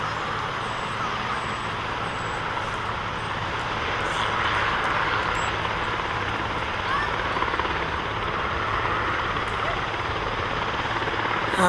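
A Nighthawk helicopter lands nearby, its rotor and turbine roaring loud and steady throughout with a broad, continuous wash.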